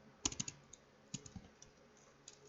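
Sparse, quiet keystrokes on a computer keyboard: a short burst of clicks, a pause, a few more taps, then a single late press, heard close with no voices.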